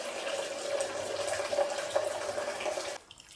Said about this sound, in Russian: Не просто кипяченую воду, а прям горячий кипяток прям добавляем